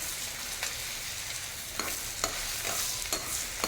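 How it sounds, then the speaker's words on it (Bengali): Prawns tossed with turmeric powder in a frying pan: a steady hiss of hot oil under repeated short scraping strokes of the spatula, close by and moderately loud, with no voices. "একটু কালার হওয়ার জন্য দিয়ে দেবো একটু হলুদের গুঁড়ো। নাড়িয়ে মিশিয়ে নেবো।"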